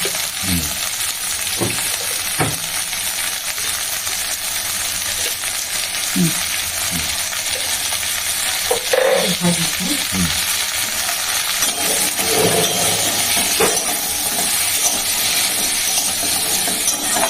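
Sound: vegetables frying in a pan with salt and turmeric

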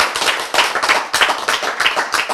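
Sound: audience clapping

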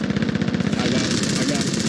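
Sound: gunfire in the video game Call of Duty: Warzone

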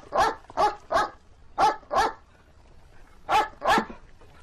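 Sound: dog barking

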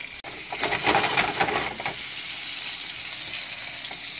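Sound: bacon frying in a pan

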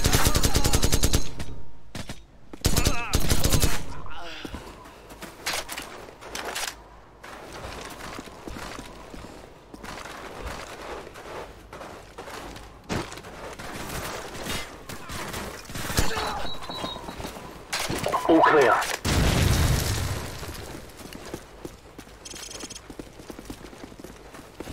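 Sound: gunfire in video game Call of Duty 4 Modern Warfare

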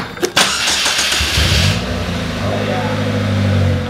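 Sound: cold start of a 2017 Polaris Slingshot engine

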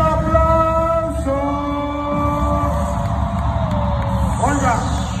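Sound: crowd applauding and cheering at rap battle event

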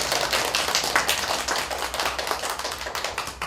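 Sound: schoolchildren applauding

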